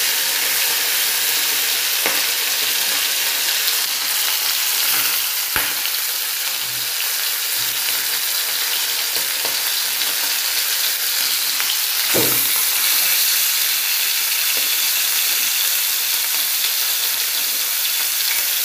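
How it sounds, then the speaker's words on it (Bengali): Satin fish frying in hot oil in a home kitchen, a steady, loud, continuous sizzle with occasional sharper pops and spatters, heard close up with no talking. "মাছটা ভাজবো। এখানে তেল গরম হয়ে গেছে, সাটিন মাছগুলো"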